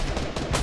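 Rapid gunfire from a weapon in Fortnite, a short loud burst of several quick shots in close succession.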